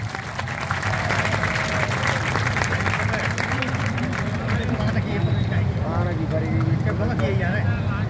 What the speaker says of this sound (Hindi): उनके लिए तालियां बजवाना चाहूंगा।